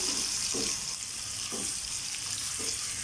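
Onions, small shallots included, sautéing in a pan for tomato chutney, a steady close sizzle with three soft stirring scrapes at regular intervals and no talking.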